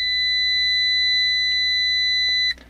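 A multimeter in continuity test mode gives a single steady electronic beep as its test leads are shorted, lasting about two and a half seconds before cutting off sharply, loud and clear with no talking.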